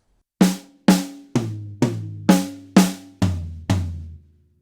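Premier drums play an eighth-note fill alternating between the snare and two toms, eight evenly spaced strikes, each decaying quickly, with the lower tom hits sounding deeper toward the end, close and alone.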